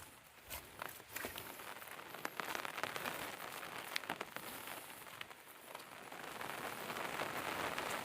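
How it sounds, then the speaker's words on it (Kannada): Rain falls in a hillside forest in the Malnad region, a faint but steady patter of drops on leaves and ground with scattered sharper ticks and no speech. "ಮಳೆ ಕೂಡ ಬರ್ತಾ ಇದೆ ಈಗ."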